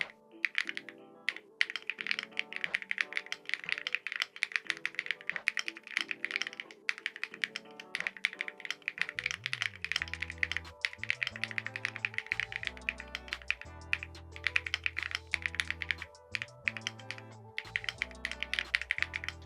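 Fast, steady typing on a modded GMK67 mechanical keyboard with swapped keycaps and foam, a dense stream of crisp clacks and taps up close, running continuously with no talking.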